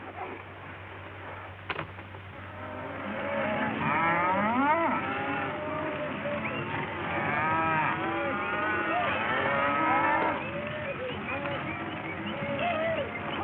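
Cattle low repeatedly in drawn-out moos, several animals overlapping at moderate distance over a steady outdoor background, with a sharp knock early on.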